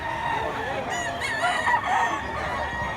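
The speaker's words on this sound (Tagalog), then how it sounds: "Tuwag manok si tata yun." A gamecock crows nearby at a rooster market in Mantalungon, Cebu, one drawn-out cock-a-doodle-doo over farmyard clucking and murmuring people.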